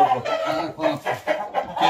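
A champion fighting rooster clucks and calls in several loud, close bursts, one after another.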